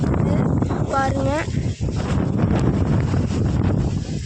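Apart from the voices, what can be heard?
strong wind blowing on microphone outdoors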